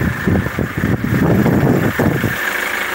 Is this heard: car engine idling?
yes